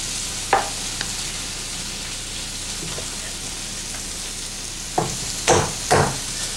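Onions frying in a pan with a steady sizzle throughout, broken by a few sharp clanks and stirring scrapes near the start and again toward the end.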